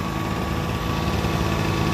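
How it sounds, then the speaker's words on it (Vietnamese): A Japanese-market portable domestic generator runs quietly with a steady, even engine hum and light vibration, close by and alone, with no voices. "máy nổ im nói chứ máy phát điện vậy là im rồi chứ phải ồn như máy cưa"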